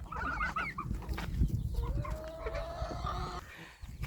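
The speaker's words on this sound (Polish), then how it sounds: "Te kurczaki wychodzą, ale zawsze wracają." Chickens, including a broody hen, clucking nearby with a few short calls, then a longer drawn-out squawk, over an outdoor background.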